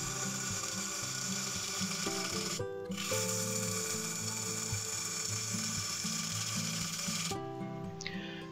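Half-inch bowl gouge cutting wood on a spinning lathe, a steady grinding, whirring scrape with tonal motor hum, broken by two short pauses as the tool lifts off.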